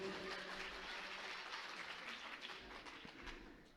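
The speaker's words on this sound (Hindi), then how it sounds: "ये तो मैंने तुम्हारी तारीफ करी तो ताली तो बजाओ इसमें" An audience at a religious discourse claps together in a soft, fairly distant round of applause that holds steady and then tapers off slightly toward the end, with no speech over it.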